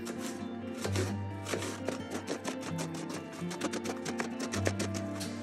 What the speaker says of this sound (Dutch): De ui hoef je niet te snipperen, maar die gaan we in halve ringen snijden.